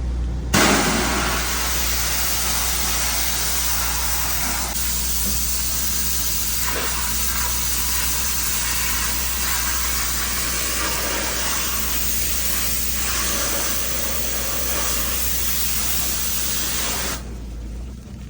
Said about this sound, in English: Gonna go ahead, power wash this whole inside of the hood.